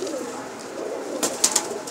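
Pigeon cooing on a rooftop, a few soft low coos close by over faint background hum, with a brief higher chirp near the end.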